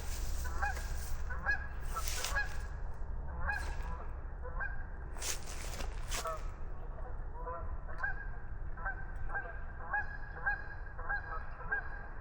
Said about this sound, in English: There's some geese.